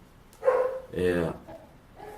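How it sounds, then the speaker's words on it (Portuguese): A neighbor's dog barks twice from a short distance, two short rough yelps with a fainter one trailing after, heard through the room. "Ó, o vizinho tá latindo"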